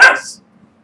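One loud, close dog bark at the very start that cuts off quickly into near silence.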